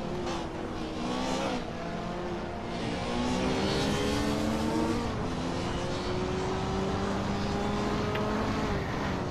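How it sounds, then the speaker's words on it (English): A loud Hot Wheels race car runs in a racing round, giving a droning engine-like whine whose rising, stepping pitches sound like repeated gear changes, sustained and fairly even in level, with no talking. "Oh my god, Dexter's car is loud"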